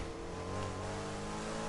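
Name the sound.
car engine racing in Need for Speed Heat video game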